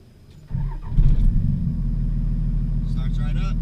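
A manual-transmission car engine cranks and fires up in neutral with the brake on, then settles into a steady low idle rumble close by, while a person talks briefly near the start and end.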